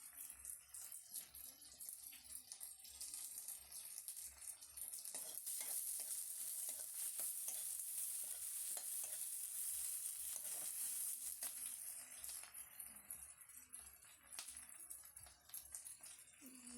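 Onions fry in a pan, a steady sizzle with occasional stirring scrapes, close and fairly quiet, continuing without talk for the whole stretch.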